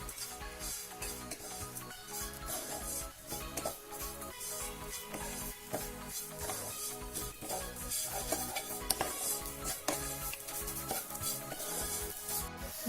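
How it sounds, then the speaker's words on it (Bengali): Grated coconut and sugar are stirred in a pan: repeated scraping and clinking of a utensil against the pan over a soft sizzle, irregular and continuous, fairly close. "নারকেলের কোড়ার সঙ্গে আমি চিনি দিয়ে খানিকক্ষণ নাড়বো।"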